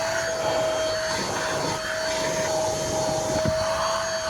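An APOSEN H20-4 handheld car vacuum cleaner runs with a steady, close whine and airy rush that holds at an even level throughout, with no talking over it.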